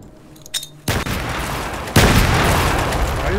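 F1 grenade explosions in S.T.A.L.K.E.R. Call of Pripyat: two loud, close blasts a second apart, each a sudden broadband boom followed by sustained rumbling debris noise, with faint clicks before the first.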